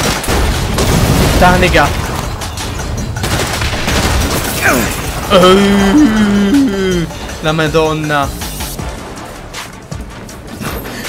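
Explosions and bursts of gunfire in the video game Saints Row, loud booming blasts and rattling shots mixed with game music and someone talking over them.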